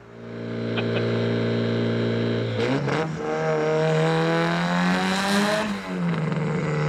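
A 500 hp Mitsubishi Evo 9 idles with a steady low drone, then its exhaust blips and climbs through revs with a downshift, the engine note rising and falling loudly up close, with no talk over it.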